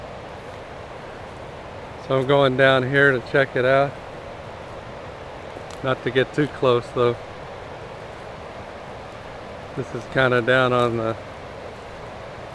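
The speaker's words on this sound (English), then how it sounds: "We just had some really amazing rain down here, and you can hear the creek that's normally dry." Flooded creek, normally dry, rushing after heavy rain, a steady broad roar of water running underneath someone talking nearby in short bursts.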